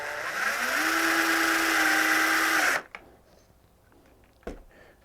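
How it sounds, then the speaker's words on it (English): A power drill drives drywall screws into wood while building a camera tripod, whining as the motor spins up and holds steady for a few seconds before stopping, followed by a short knock. "Just drill that in."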